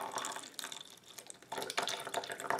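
Watery liquid from a pudding or flan squishy toy pours into a small cup, splashing and trickling in irregular bursts at close range without any speech.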